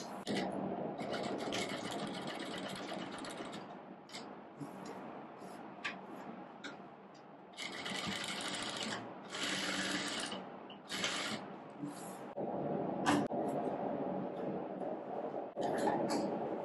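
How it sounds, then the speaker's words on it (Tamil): A sewing machine stitches a side pocket onto a pair of shorts, running in several bursts of rapid mechanical whirring and ticking separated by brief pauses, close and fairly loud. "இப்ப நம்ம வந்து ஸ்டிச் பண்ணிக்கலாம்."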